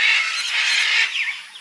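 Harsh, raspy squawks from an exotic bird at a bird farm, loud and close, calling continuously with a brief rising cry near the end, no talking.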